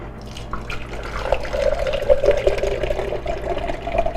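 A milkshake cup being filled with water to its first notch, around 200 to 250 millilitres, with a steady close pour and running flow that continues throughout.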